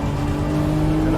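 A Lamborghini Revuelto V12 hybrid accelerates hard out of a four-wheel slide, its engine note loud, close and sustained as the rear tires hook up and the revs build steadily.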